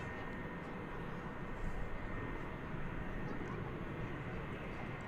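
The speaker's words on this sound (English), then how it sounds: "What you see there is American Flight 1584. It's going to Las Vegas. It's an Airbus A321 here on Runway DFW." An American Airlines Airbus A321 on the runway at Dallas Fort Worth airport gives a steady, broad jet engine roar at moderate distance, with a voice talking over it.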